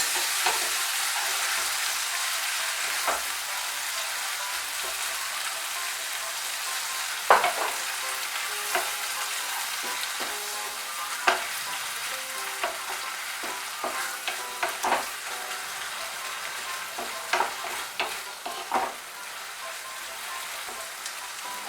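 Water poured into a hot frying pan of bitter gourd cooking in a poppy seed paste, setting off a steady broadband sizzle with clicks of stirring and spatula scrapes throughout, close and without talk.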